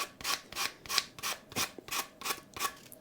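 A Telecaster guitar body is sanded by hand with 150 grit sandpaper, off a block, in steady back-and-forth strokes, about eight quiet rasping passes in a regular rhythm, close and alone.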